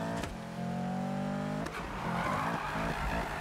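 Need for Speed car drifting, engine droning steadily then revving hard and rising after a brief break, with a squealing tire whine running throughout, loud and close, no talking.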